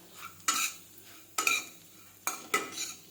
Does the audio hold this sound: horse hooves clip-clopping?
no